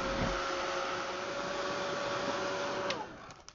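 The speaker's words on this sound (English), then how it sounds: "I'm going to heat set this a little bit" A heat gun blows a steady whirring hum over a watercolor craft tag, holding constant for a few seconds before clicking off and fading, with faint handling sounds at the end.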